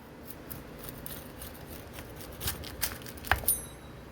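Cutting through a homemade salami and pepperoni pizza, with soft crunching and scraping strokes that build toward a few sharper crisp snips near the end, close and fairly quiet, with no talk.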